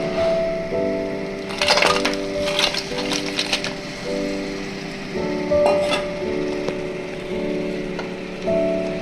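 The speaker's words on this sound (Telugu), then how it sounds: "ఇప్పుడు వీటిని ఆ ఫ్రైలో వేసి ఒక 5 మినిట్స్ పాటు దగ్గరగా ఫ్రై చేద్దాం" Cleaned crabs fry in a pan with a steady sizzle, broken by bursts of crackling and scraping as they are stirred, under a sustained tonal background.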